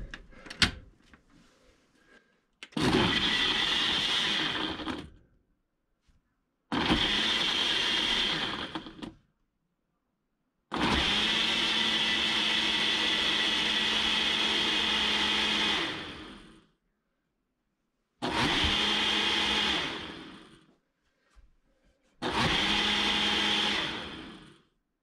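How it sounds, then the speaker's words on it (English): A blender whirs through a smoothie in five loud bursts of steady high-pitched grinding separated by short silences, the longest run lasting about six seconds. No talking. "Cap it off, toss it into the mixer upper."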